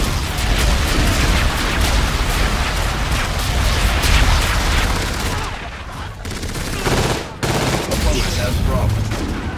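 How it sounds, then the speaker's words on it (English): Artillery bombardment in a Call of Duty match, loud sustained gunfire and explosions pounding throughout, easing briefly then returning, with a sharp cut near the end. "Enemy bombardment incoming."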